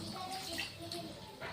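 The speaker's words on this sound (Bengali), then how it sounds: "দিয়ে দেবো পরিমাণ মতো জল" Water poured into a pan of fish curry with aubergine pieces, a steady close splashing wash that runs without a break.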